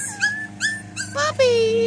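Young puppies whimper and yip in short, high, rising cries outdoors, close and fairly loud, with a person speaking softly over them.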